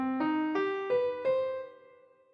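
Four ascending notes of the Dalic scale mode, scale 2185, are played one after another in an even rhythm on a clear-toned instrument, with the last note ringing out and fading alone.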